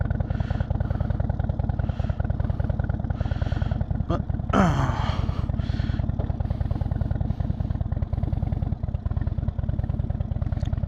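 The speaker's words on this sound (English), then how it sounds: "I just turned the engine on" A vehicle engine runs steadily at idle, just started after sitting in the sun, with a loud, even rumble throughout, a brief clatter in the middle and someone speaking a word over it.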